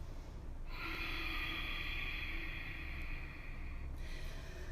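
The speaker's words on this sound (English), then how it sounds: "rasping sound, we make it at the back of the throat." Ujjayi yoga breathing, a soft steady rasping exhale made with a constricted throat, one long breath lasting about three seconds over a quiet room, with no talking.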